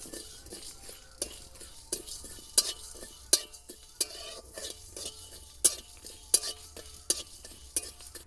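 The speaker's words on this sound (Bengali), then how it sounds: "এই মশলাগুলো কিন্তু হালকা আঁচে ভাজতে হবে" Spices for a raw mango pickle are stirred in a pan over low heat: a spoon scrapes and clinks against the pan in an irregular rhythm, with a faint, quiet sizzle underneath.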